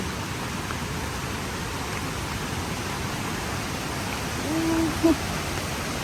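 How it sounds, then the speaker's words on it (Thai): Steady broadband rush of a waterfall at Tad Kaeng Yui near Vang Vieng, Laos, water flowing continuously and evenly, with a brief faint tonal sound near the end. "เบิ่งเสียงน้ำถาดดิ"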